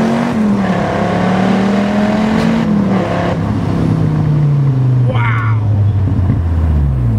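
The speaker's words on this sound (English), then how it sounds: "we're going to give this baby a roll on here in first gear, because I don't want to launch it too much, but this is what a supercharged Viper feels like" A supercharged Dodge Viper GTS pulls hard in first gear, its engine note sweeping steadily up and then settling lower, loud and close throughout the run.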